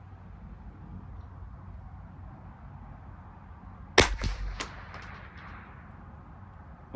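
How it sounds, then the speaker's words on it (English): A single sharp crack of a semi-automatic .22 rifle at a 50-yard benchrest range, loud and close, followed by a few quick mechanical clatters over quiet outdoor ambience. "Okay, one more shot for that group."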